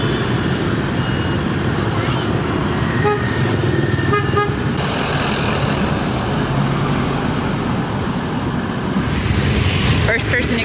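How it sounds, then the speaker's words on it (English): Busy Ho Chi Minh City traffic of scooters and cars surges around a rider on a trike, with repeated horn toots over a constant engine roar and faint voices mixed in. "First-person experience traffic in Vietnam. It's pretty intense"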